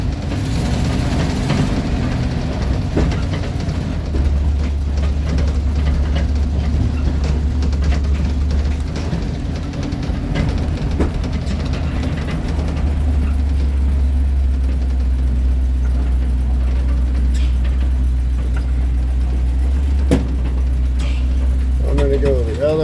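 An International Travelall engine idling cold on choke, a steady low rumble that rises in pitch partway through as more choke is given, with someone talking over it and birds chirping faintly.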